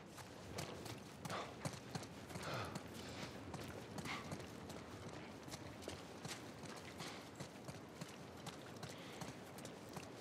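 Horse hooves clip-clop steadily through a dense, busy game soundscape in The Last of Us Part 1, a continuous rhythmic trot at moderate distance with no clear speech over it.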